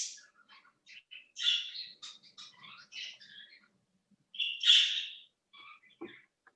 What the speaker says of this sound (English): Does somebody have a bird in the background?